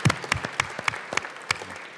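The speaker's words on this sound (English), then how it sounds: "we'll give her a round of applause" A short burst of scattered applause in a state legislative chamber, quick claps from a modest number of people, fairly close and lively throughout.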